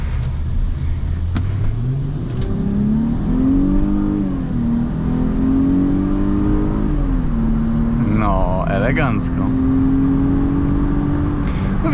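A 2006 Mercedes CLK350 engine hums up close and slowly climbs in pitch as the car gains speed, a smooth steady acceleration with no gear breaks.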